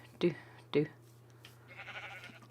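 Sheep in Minecraft bleat twice in quick succession, two short close bursts over a steady low hum, followed by quieter game ambience.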